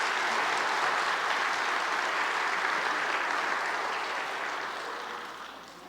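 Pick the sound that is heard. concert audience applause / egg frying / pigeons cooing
concert audience applause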